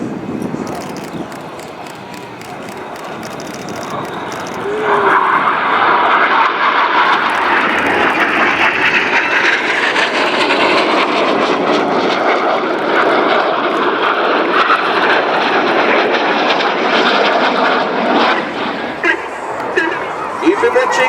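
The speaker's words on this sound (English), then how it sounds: "You've been watching the Royal Air Force Aerobatic Team" Royal Air Force aerobatic team jets roar through a flying display at the 2015 Biggin Hill Festival of Flight, the loud engine noise swelling sharply and holding as the formation passes, with commentary over it.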